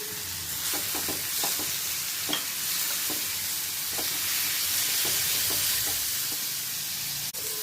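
Tomato, curry leaves and garlic fry together in a pan for a masala egg dish, giving a steady close sizzle with a soft, even hiss and light stirring taps scattered through it.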